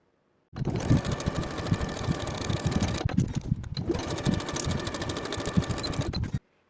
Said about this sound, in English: Sew with a 5/8 inch seam allowance, press the seam open and repeat for both sleeves.